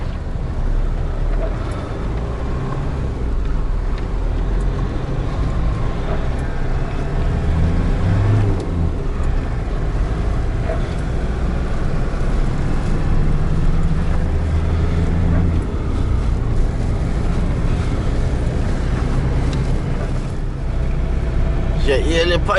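A car's engine roars steadily as its wheels spin and slip while climbing a hill against strong wind, a loud unbroken drone with buffeting wind noise and some voices underneath.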